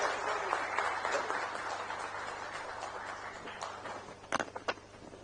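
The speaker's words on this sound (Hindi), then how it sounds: "जोरदार तालियों से स्वागत ब्रजमोहन जी का" Audience applause welcoming MP Brijmohan Agrawal at a special Ayushman Bhav event, a steady wash of many hands clapping that slowly thins out, with a few sharper close claps near the end.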